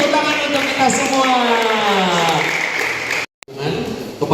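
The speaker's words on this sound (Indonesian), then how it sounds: "tepuk tangan untuk kita semua" Applause from a family gathering of a St Petrus church neighbourhood community, with dense clapping that rises and then thins. It cuts off abruptly near the end, and a short burst of clapping follows.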